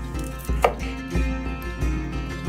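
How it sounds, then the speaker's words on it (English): A knife chops garlic on a cutting board for a fish pie, sharp close knocks landing in a fairly even rhythm of about two per second, with no voices. "I'm now going to chop some garlic and scatter it over the pie."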